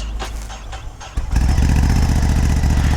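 A 2022 Ducati Scrambler 1100 motorcycle starts for the first time: a few starter clicks and cranking, then the engine catches at once into a loud, close, deep throbbing idle.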